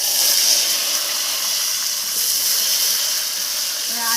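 Onion, green chilli and coriander paste sizzles in hot oil for an egg curry, a steady, even hiss with no pauses.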